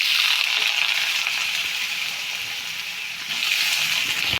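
Carrots added to hot oil in a kadai for a paneer momo filling, giving a steady bright hiss of frying. It stays even for a few seconds and then cuts off abruptly, with no talking.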